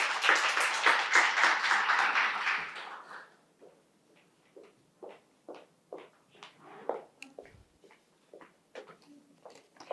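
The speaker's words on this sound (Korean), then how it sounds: "박수 부탁드리겠습니다." An audience at a Korean social-service investment event claps in a full round of applause that dies out after about three seconds, followed by scattered footsteps and shuffling.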